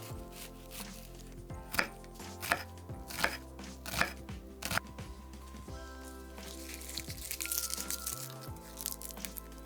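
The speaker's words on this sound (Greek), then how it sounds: "Ξεφλουδίζουμε ένα κρεμμύδι και ψιλοκόβουμε σε μικρά κυβάκια." A knife chops a peeled onion into small cubes on a cutting board, giving a run of close, crisp, fairly steady knocks that loosen into scattered cuts with faint rustling between strokes.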